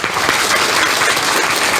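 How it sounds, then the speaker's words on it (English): A conference audience at a fintech summit breakout session applauds its panel speakers, a steady, dense wash of clapping that fills the whole moment without any talk over it. "Please, ladies and gentlemen, bring a very warm applause to our speakers."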